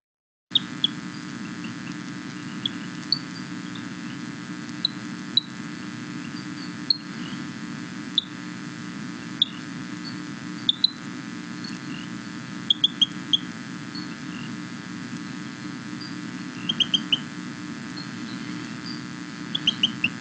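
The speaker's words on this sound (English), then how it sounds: "hear the little chirp of this frog coming from shrubbery and flower beds" A small frog calls from shrubbery and flower beds with short, bird-like chirps, sometimes doubled, at irregular intervals. The calls stand out faintly over a steady humming background drone.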